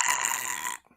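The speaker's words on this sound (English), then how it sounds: "Is that how you try to burp?" A man forces out a loud, rough burp at close range, a single broad raspy burst lasting about three-quarters of a second before cutting off into near silence.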